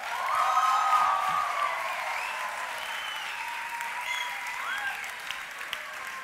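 A studio audience at a comedy talk show claps and cheers steadily, fairly loud at first and then settling, with cheers and whistles rising over the clapping.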